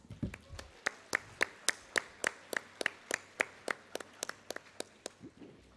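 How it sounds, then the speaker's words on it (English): A single pair of hands claps in a steady, evenly spaced rhythm, about twenty sharp claps in a quiet room, like one person keeping time rather than a full crowd. "and give a big round of applause"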